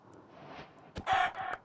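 Minecraft chickens making short game clucks, a brief burst of bright squawking calls close and clear over a low background murmur, with a couple of quick follow-up clucks.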